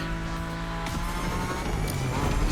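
A car driven in the racing video game The Crew Motorfest, its engine droning steadily with a shifting tone partway through and a brief whoosh, heard alone without talk.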